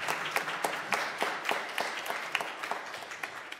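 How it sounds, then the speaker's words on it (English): A church congregation gives a round of applause during a Methodist service, with scattered individual claps standing out over a steady patter of hands, moderately close. "One more round of applause."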